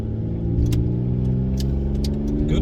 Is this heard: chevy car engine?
yes